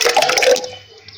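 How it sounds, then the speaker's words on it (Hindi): Thick yogurt pouring into a blender jar, a wet, gloopy splatter lasting about half a second, close and fairly loud, then fading into a quiet room. "पहले मैं यहाँ पर डालूँगी दही।"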